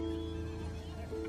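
A horse in The Legend of Zelda: Breath of the Wild neighs, a sustained tonal whinny that is clear and fairly close, with faint hoof clip-clop underneath.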